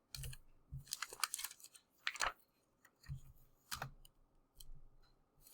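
Computer keyboard typing sounds as a string of distinct, close clicks and clacks in irregular bursts with short quiet gaps, fairly soft overall, with no talking.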